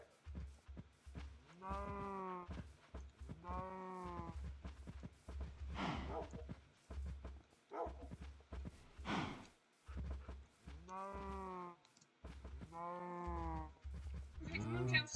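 Video-game cows moo repeatedly in long, drawn-out calls, several overlapping, with people talking between and under the lowing.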